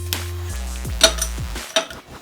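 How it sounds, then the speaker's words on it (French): Chocolate going into cream in a small saucepan on the stove, heard as a few close, sharp clinks and knocks of metal and utensils with brief scraping in between, and no talking. "tu y mets tes 200 g de chocolat, délicatement"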